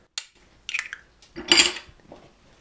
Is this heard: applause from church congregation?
no